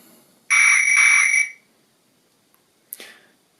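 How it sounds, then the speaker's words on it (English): A guard's whistle sounds from a model train speaker, one clear, shrill, sustained blast lasting about a second, followed by a faint click and a brief breathy noise. "Guard's whistle is always a favourite."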